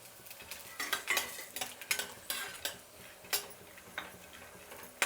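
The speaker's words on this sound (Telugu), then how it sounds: "వెల్లుల్లి రెబ్బలు ఇలా వేగిన తర్వాత మళ్ళీ పల్లీలు వేస్తున్నానండి" Garlic cloves and peanuts frying in oil in a pan, with irregular clinks and scrapes of stirring over a faint sizzle, close by.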